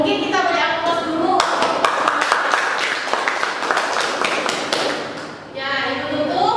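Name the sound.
class applause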